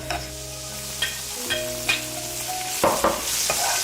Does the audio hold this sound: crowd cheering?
no